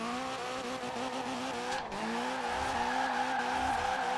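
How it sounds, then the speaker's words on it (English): Tires squeal steadily as a car drifts through a corner in Forza Horizon 4, a sustained wavering screech over engine drone. "I'm turning into the drift."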